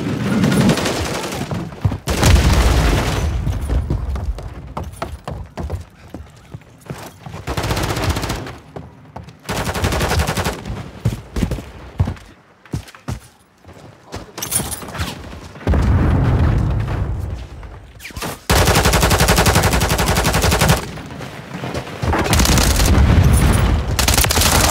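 Heavy gunfire in Call of Duty Modern Warfare 3 multiplayer, sustained automatic bursts and booming shots, loud and near, broken by short lulls before long dense volleys resume.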